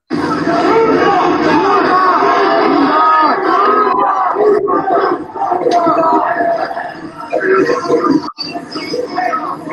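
A large Juggalo crowd chants and shouts loudly in unison, a dense roar of massed voices that runs steadily with brief dips, like a rowdy concert audience calling out a name.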